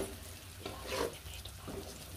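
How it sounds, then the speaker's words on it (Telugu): Food frying in a pan as it is stirred, a soft continuous sizzle with a few brief scraping swells, fairly faint and heard without talk. "ఇదిగోండి ఇలా అయితే బాగా వేయించుకోవాలి"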